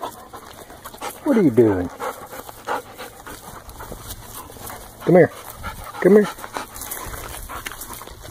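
A hunting dog after a turkey hunt, panting steadily and letting out a few short whimpers, close by, while a person talks to it.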